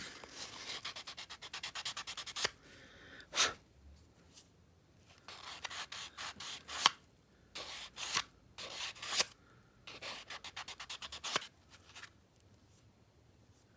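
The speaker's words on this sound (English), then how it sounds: "Let's see if I can buff that out a little bit" Acrylic dip powder nail being buffed, a soft scratchy rubbing in repeated short strokes of varying strength, close and fairly quiet, with brief pauses between passes and no talking.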